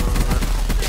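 Rapid gunfire in the video game Call of Duty Black Ops 4, a quick burst of loud, close shots in uneven rhythm over dense game noise.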